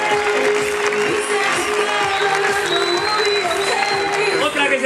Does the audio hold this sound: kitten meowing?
no